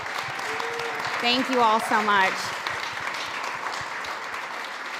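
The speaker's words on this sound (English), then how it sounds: "So give yourselves a round of applause." Applause from a food summit audience at SXSW 2025 holds as a steady broadband wash throughout, with a voice speaking briefly over it near the start.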